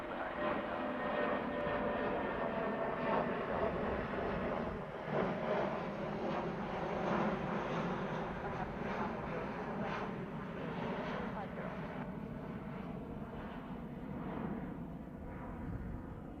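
A British Airways Airbus A319 jet departs Heathrow, its engine roar steady and loud throughout, with a voice talking over it.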